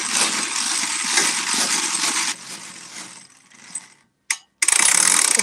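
A ratchet mechanism being cranked back up during a cattle move, producing a steady rasping mechanical clatter that fades, breaks off briefly, then resumes loudly.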